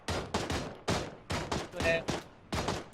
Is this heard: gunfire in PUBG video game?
yes